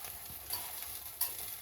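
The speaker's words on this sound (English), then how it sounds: "It's frying on 40 ml of oil." Quiet, steady sizzling of pork frying in 40 ml of oil in a pan, with a couple of brief louder crackles, no voices.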